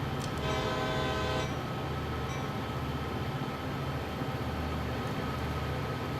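A CSX freight train horn in the Train Sim World 2 game blares one long, loud blast, then gives a brief second toot, over a steady, heavy rumble of the locomotive.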